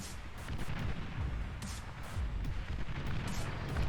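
Artillery shells striking in the strategy game Beyond All Reason, a dense run of rumbling booms and blasts that rolls on without a break and no voice over it.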